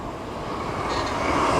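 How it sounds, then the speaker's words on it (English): A deep, continuous rumble swells slightly over a second and a half as a train rolls past close overhead in the British countryside. "Train overhead."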